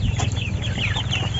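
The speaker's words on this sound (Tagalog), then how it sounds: "Ito pala yung alaga ko na 35 days na mga na manok" A flock of 35-day-old chickens clucking and murmuring together in dense, continuous chatter, close by, with no one talking.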